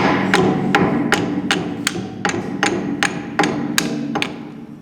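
A hammer tacks a part into place with about a dozen sharp metallic blows, evenly spaced and close, each one ringing briefly over a low steady background, with no talk.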